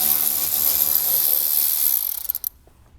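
A ratchet wrench works loose 8mm bolts from a lower metal panel inside a 2021-or-later Ford Bronco, a fast close clicking run for about two seconds that stops abruptly with a couple of faint knocks.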